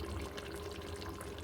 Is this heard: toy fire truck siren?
no